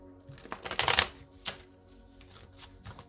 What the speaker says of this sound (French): Alors, on va prendre le tarot, on va faire une coupe